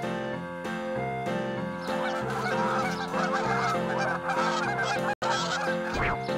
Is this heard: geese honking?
yes